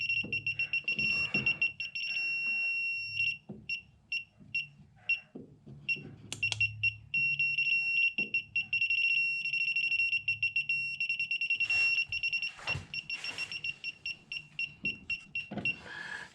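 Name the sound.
electronic device beeping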